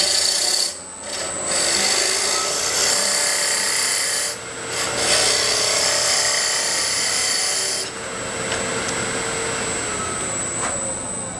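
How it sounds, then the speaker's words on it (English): A round nose scraper hollows wood spinning on a lathe with a steady rasping, scraping sound. The cut stops briefly twice and changes once, and the lathe keeps humming underneath. "now I'm going to start out hollowing this with a round nose scraper here"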